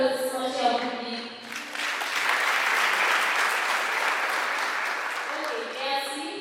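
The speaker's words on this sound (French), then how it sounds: "Sous vos applaudissements, cher public." Applause breaks out from the audience at a vocational school graduation ceremony, rising after a brief spoken phrase and holding as a steady, moderately loud wash of clapping before voices return at the close.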